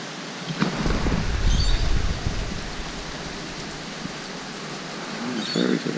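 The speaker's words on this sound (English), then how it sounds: "Just want this rain to go away." Steady rain on a ferry with gusty wind buffeting the microphone, a broadband wash that swells louder near the start and end.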